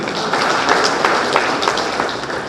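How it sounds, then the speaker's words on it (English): Conference audience applauding, a sustained round of many hands clapping with a few sharper claps standing out, fairly close and steady throughout. "can we have a big round of applause for it?"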